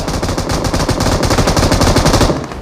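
Rapid automatic gunfire in the PUBG battle royale game, dense continuous bursts of shots filling the whole stretch, loud and close with no pauses.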